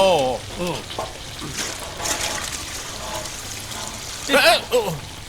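Water pours and trickles steadily in the background while people talk over it, with a brief louder splash near the end.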